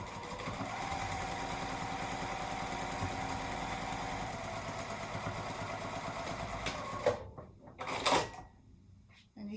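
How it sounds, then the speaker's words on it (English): A sewing machine runs steadily while stitching down the center of a quilted tote base with batting attached to the fabric, a continuous mid-pitched hum for about seven seconds before stopping, followed by a few brief clicks and handling sounds. "so I like to just go ahead and stitch down the center of the base"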